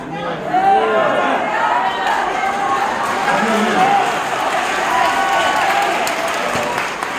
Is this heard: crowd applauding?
yes